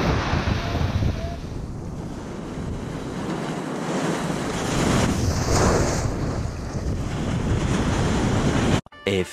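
Ocean surf rolls steadily onto Kuta beach, a beginner surfing spot, with strong wind buffeting the microphone. The roar stays loud and continuous, and a brief handling thump comes near the end.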